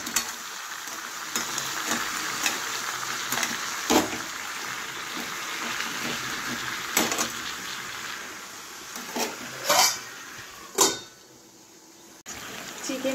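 Chicken is being stirred and mixed in a pan with no water added. Steady frying noise runs underneath repeated scraping and clattering stirs, loudest in a few sharp bursts near the end.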